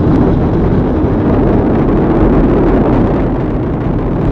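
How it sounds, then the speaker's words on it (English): A loud, continuous rocket roar from the Artemis I core stage engines and two solid rocket boosters at launch, deep and rumbling, with broadband crackle holding steady throughout and no voices. "Engines on the core stage and 2 solid rocket boosters now propelling the vehicle"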